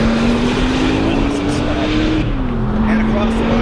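A tuned Porsche 911 Turbo accelerates on a track, its engine note rising steadily in a loud, close interior drone before dipping briefly at a shift and climbing again.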